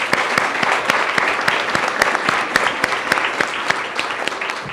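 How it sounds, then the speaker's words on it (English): A seated audience gives a panel discussion a dense, steady round of applause, with many hands clapping together near and loud throughout, with no break. "Well, join me in giving our panelists a round of applause."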